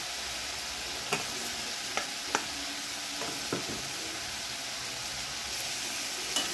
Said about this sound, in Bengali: ভিজে রাখা চিংড়ি মাছ আর কিউব করে রাখা পেঁয়াজ ভাজাটা আমি দিয়ে দিলাম